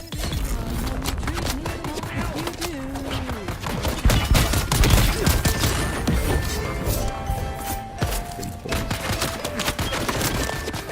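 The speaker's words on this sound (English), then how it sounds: "Firing their disruptor at me." Disruptor weapon fire in the video game Dune Awakening, a rapid dense barrage of crackling shots and impacts lasting throughout, loud and continuous with a voice partly under it.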